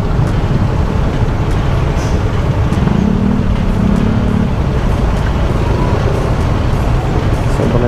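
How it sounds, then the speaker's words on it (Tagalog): Heavy road traffic on a dusty road, with cars, buses and trucks rumbling together in a dense, steady wash of engine noise, close and continuous throughout. "Sobrang traffic na mga sir."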